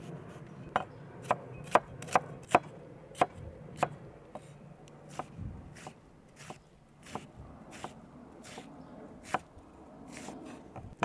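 Diced onion being chopped for a pork mince stir-fry, a knife striking a board in quick, uneven bursts of sharp taps that slow and thin out toward the end, close and clear with no talking.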